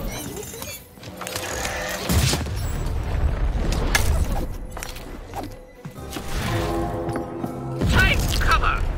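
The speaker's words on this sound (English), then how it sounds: "Shoot the button to fire the cannon." Cannon fire in the video game Lost in Random: several booming blasts and cracks with mechanical clatter, loud against busy game music and effects, with a voice speaking throughout.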